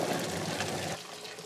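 Green peas are tipped from a hot stove pot into a bowl of cold water, giving a brief rushing pour and splash that cuts off abruptly, leaving a faint trickle, close and fairly loud.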